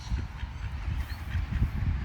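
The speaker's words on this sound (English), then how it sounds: "The ducks are coming to me." Ducks quack and honk nearby in short, repeated calls, several overlapping squawks close and fairly loud over a brief stretch.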